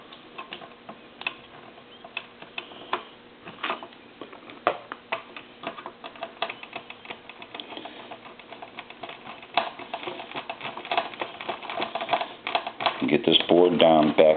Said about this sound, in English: So now what we want to do is get some screws back into this.